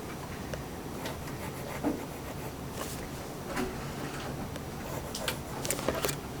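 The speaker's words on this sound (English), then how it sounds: "let me draw in my diagonals" Marker or pen drawing diagonal lines on a board, soft scratchy strokes in a few short bursts over a faint steady room hiss, with no talking.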